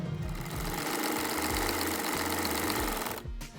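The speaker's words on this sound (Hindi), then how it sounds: "इसको मैं एक सिंगल सिलाई लगा लूँगी।" Sewing machine running steadily while stitching a single seam along the folded hem of ladies' trousers, a continuous close mechanical whirr with a brief stop near the end.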